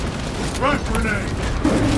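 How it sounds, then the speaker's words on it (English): A frag grenade goes off in Warhammer 40000 Space Marine 2 with a muffled boom amid dense battle noise, while voices talk over the action. "Frag grenade."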